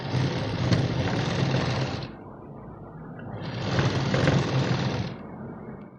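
An electric sewing machine runs while stitching a large katori-style blouse, humming steadily in two bursts with a quieter pause between, close and mechanical.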